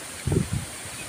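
Brief gusts of strong wind rustling through leaves during light rain, two low whooshing surges close to the microphone, then quieter ambient noise.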